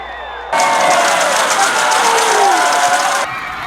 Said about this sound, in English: send the crowd into a frenzy